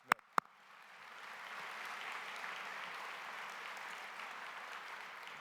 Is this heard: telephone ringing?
no